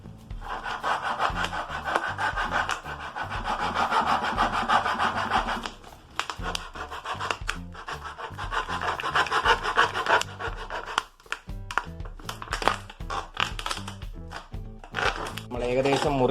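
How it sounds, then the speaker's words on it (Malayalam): A 1-litre plastic water bottle being cut with a blade, giving continuous close scraping and rasping strokes with short gaps, steady and fairly loud throughout, with no talking. "ആദ്യം ഈ ബോട്ടിലിന്റെ ഇവിടെ വെച്ച് ഒന്ന് മുറിച്ചെടുക്കുക."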